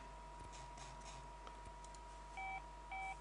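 Mobile phone dialing in the Saints Row: The Third video game: two short, clear electronic keypad beeps over a steady low hum and faint clicks.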